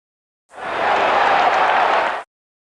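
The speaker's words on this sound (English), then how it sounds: "the stadium exploded in thunderous applause and cheers" A stadium crowd bursts into thunderous applause and cheering, a dense roar of clapping that swells quickly, holds steady and loud for under two seconds, then cuts off abruptly.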